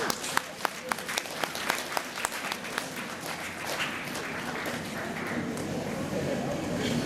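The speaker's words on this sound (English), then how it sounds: "Now give yourself a round of applause." An audience claps, opening with a run of sharp, separate hand claps that merge into a softer, continuous wash of applause, moderately distant and fading into general crowd noise.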